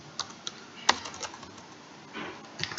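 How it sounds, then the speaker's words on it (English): Uneven keystrokes clatter on a computer keyboard, a sparse run of separate taps with short pauses and one sharper click, close and fairly quiet with no voice. "Excuse my poor typing."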